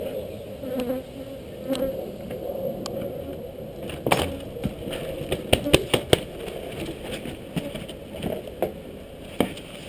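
Dense buzzing of many live bees being vacuumed from a stucco roof hums steadily, with scattered clicks and knocks layered over it and a faint voice in the background.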